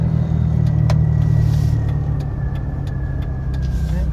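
A lifted, customized 1999 Jeep Wrangler with 48,000 miles rumbles steadily down the road, its engine loud and close with a deep low drone and faint ticks over the running noise.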